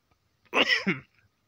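A single short, harsh cough from someone with a cold and sore throat, close and clear, in an otherwise quiet room.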